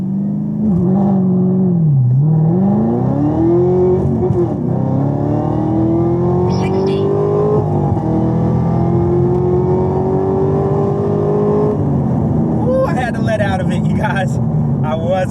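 A Chevrolet Camaro ZL1 accelerating hard through the gears, its loud engine note climbing in pitch with each pull and dropping at every shift, heard close from inside the car with steady road roar.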